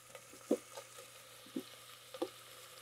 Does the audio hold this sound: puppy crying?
no